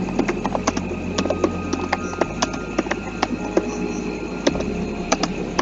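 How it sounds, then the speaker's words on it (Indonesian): Rapid clicking keystrokes on a computer keyboard while filling in a Google Classroom form, an irregular stream of sharp taps over a low background hum, close and fairly clear. "Kemudian saya tinggal mengetik di sini"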